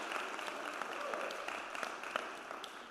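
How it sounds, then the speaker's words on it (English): Audience applause at the closing ceremonies of the Cycling for Change Hope Tour 2025 on Long Island, a steady wash of clapping with a few sharper claps poking out, moderately distant and holding for about three seconds. "Let's clap it out for Cycling for Change."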